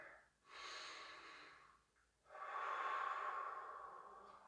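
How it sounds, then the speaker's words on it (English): Slow, deep breaths taken while holding the qigong embracing-the-tree posture: a long inhale, a short pause, then a longer, louder exhale, close and clear with no talking. "we're just going to do some deep breathing in this posture."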